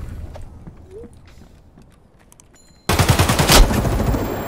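Video game gunfire bursts in sudden, loud and rapid after a quiet stretch of faint ambient noise, forming a dense rattling volley for the last second and a half.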